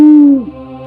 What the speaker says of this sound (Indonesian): Dari jauh, suara burung hantu bersahutan.